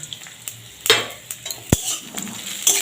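Onion, ginger and garlic fry in oil with a close, crackling sizzle, punctuated by sharp metallic taps and scrapes of a spoon against the pan.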